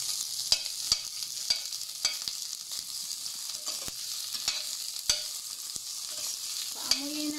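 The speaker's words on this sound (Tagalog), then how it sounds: "Sunod natin ang ating onion or sibuyas. Gigisa natin yan." Onion and ginger sautéing in olive oil, a steady soft sizzle punctuated by regular sharp clicks of a utensil scraping and stirring the pan.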